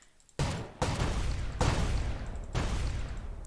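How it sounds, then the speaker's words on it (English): Dual guns firing in the Roblox-style game AOPG: four loud, sharp shots in quick succession, each ringing out into a broad, noisy tail, with no talk over them. "it looks like a shot from each gun and then a shot from both of them"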